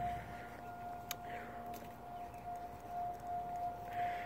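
A civil defense siren sounds during a scheduled test, holding a steady wailing tone through the whole stretch at moderate distance, alone with faint background ambience.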